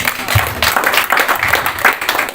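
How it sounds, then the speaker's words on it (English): A crowd applauds at a Kenyan film dissemination event, a dense, loud wash of clapping that holds steady from start to finish with some voices beneath. "I want to give you all a big clap"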